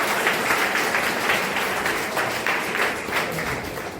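An audience at an institution gathering applauds to welcome a first-time guest, giving steady, dense clapping that holds at an even level throughout without a break.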